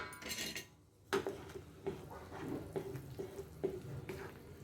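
Boiled water poured into a pan of oats ragi upma and stirred, with a splashing pour followed by repeated scraping, clinking strokes of a spoon against the pan, close and fairly quiet.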